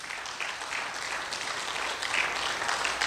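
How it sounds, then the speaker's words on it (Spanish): A church congregation claps together in a steady, broad wash of applause that swells slightly toward the end, with no clear voices above it. "Ese aplauso es para Cristo"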